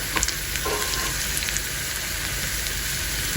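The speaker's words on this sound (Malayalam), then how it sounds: "ഒന്ന് വഴണ്ട് വന്നിട്ട് ഇതിലേക്ക് കുറച്ച് കറിവേപ്പിലയും കൂടി ഇട്ട് കൊടുക്കുക" Close, steady sizzle of onion and curry leaves frying in hot oil with a few brief crackles and light stirring, no voices.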